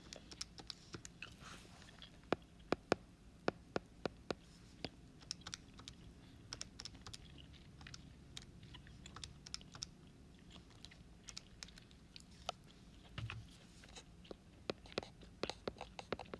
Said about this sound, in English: I'm going to use my calculator and just type all this in.